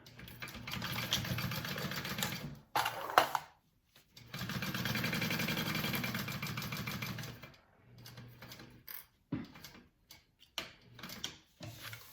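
A sewing machine bastes fabric onto a handbag in two long runs of steady mechanical whirring with a ticking pulse, separated by short pauses and a few brief stop-start bursts, close and alone.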